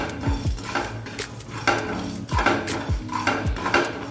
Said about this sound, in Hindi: तो इसको मैं फ्राई करना शुरू करती हूँ।